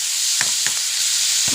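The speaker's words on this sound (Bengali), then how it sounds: "চালটা আমি সুন্দর করে একটু ভেজে নেব" Washed pulao rice fries in oil in a wok with a continuous bright sizzle, broken by a few soft scraping stirs of the grains, close and steady with no voices.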